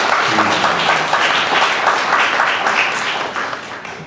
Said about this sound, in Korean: 한 번 더 여러분 격려의 박수 해주시면 좋겠습니다